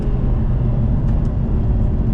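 Engine of a 2024 Lotus Emira 2.0T sports car during an aggressive gear change, a loud, steady low rumble heard from inside the cabin with no break across the shift.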